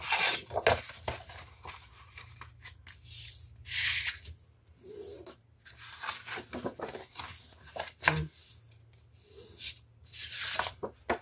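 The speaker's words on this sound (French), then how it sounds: "Je viens marquer tous les plis." Paper desk calendar being creased by hand, with soft rubbing and scraping strokes along the folds, intermittent bursts close up separated by short quiet gaps.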